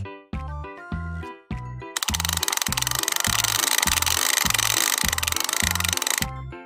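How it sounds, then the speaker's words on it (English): A counting-game wheel spins with a rapid, steady ratcheting clatter that runs for several seconds under a bright musical tune, then stops abruptly. "Let's spin the wheel and see what number we get."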